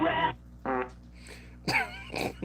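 A fart sound effect played on cue by a late-night show's sound operator, made of several short, buzzy bursts in a row that stand out loud and clear with no talk over them.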